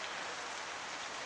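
Steady, dense rain pours down on a sugarcane field in Suphan Buri during a storm, an even hiss of drops with no break across the short stretch.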